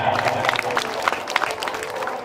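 Applause from an audience at a Marathi comedy stage show, a broad wash of clapping and crowd noise with a few louder claps standing out over the 2 seconds.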